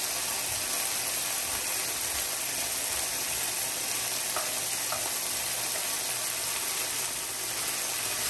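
Minced garlic and scallion whites sizzle steadily in a hot pan for beef lo mein, a loud, continuous frying hiss throughout with no talking.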